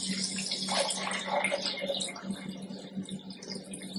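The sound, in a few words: water poured into a pot to cover beans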